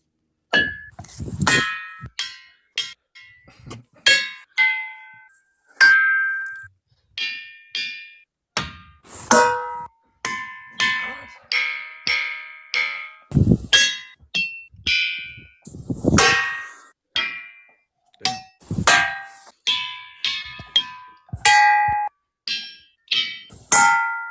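Rocks at Ringing Rocks are struck again and again, each hit giving a bright metallic ring like a bell that quickly fades, in a loose irregular rhythm, close and loud.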